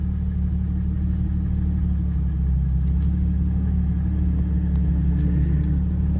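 A high-mileage Jeep Cherokee XJ with a five-speed manual runs with a steady, deep engine rumble as the clutch is let out without throttle, loud and constant throughout with no talk.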